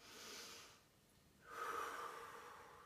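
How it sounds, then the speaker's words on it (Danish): One deep breath taken during a stretching exercise: a soft, drawn-out inhale, a short pause, then a stronger, audible exhale, close and alone. "Tag en dyb vejrtrækning."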